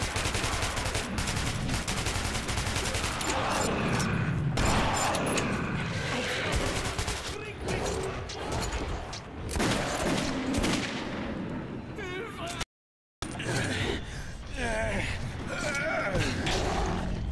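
Dense gunfire from the video game Metro, bursts of rapid shots and bangs layered in a chaotic fight, with voices talking over the shooting.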